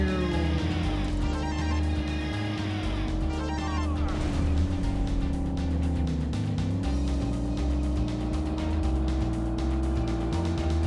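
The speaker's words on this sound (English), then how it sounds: "As our driver revs the engine" In the Midtown Madness 2 racing game, a car engine revs and drones with stepped pitch changes like gear shifts, loud and continuous, with game music and effects mixed in.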